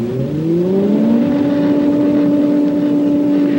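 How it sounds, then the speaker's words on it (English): A wind tunnel's air jet motor starts up. Its hum climbs quickly in pitch, then settles into a loud, steady drone with a rushing of air. "I'm going to start the motor now."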